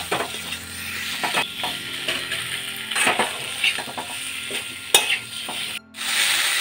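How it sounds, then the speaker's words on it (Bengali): Fried potatoes stirred with spice paste in a pan, a close sizzling fry under repeated scraping and clinking strokes of a spatula, with a brief pause near the end. "মশলার সঙ্গে আলুগুলোকে আর একটু কষিয়ে নেব।"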